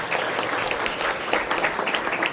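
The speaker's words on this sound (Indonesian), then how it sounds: "tepuk tangan untuk kalian semua" Students at an SMPN 46 school OSIS and MPK candidate debate break into steady, dense applause, a full room of hands clapping continuously without pause.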